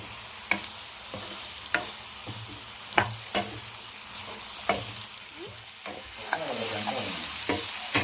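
Broad beans and tomato stir-frying in a pan, sharp spatula knocks at a steady pace over a soft sizzle that swells louder toward the end, with no talking.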